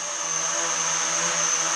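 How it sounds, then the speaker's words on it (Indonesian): A Visuo XS816 Battle Shark toy drone hovers indoors with its small propellers making a steady, close, high-pitched whine that holds even for the whole stretch. "ngetes drone Visuo di indoor dulu"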